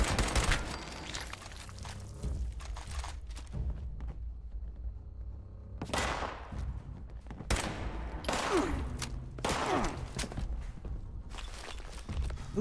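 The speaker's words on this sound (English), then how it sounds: "Pipe pistol? God damn it. Hate the pipe pistol." Pipe pistol shots in Fallout 76 come as a few sharp cracks spread across several seconds, mixed with footsteps and thumps, with quieter stretches between the bursts.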